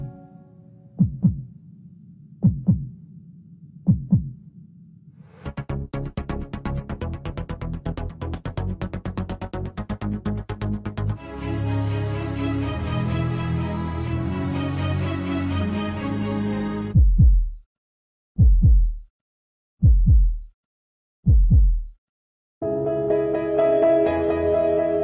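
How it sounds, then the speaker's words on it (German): A heartbeat-style sound effect from Audi's sound branding: a few soft, evenly spaced double thumps, then a dense musical build of layered tones, followed by more isolated deep pulses before a final swell. "Ganz wichtig in dieser Szene ist der Audi Heartbeat."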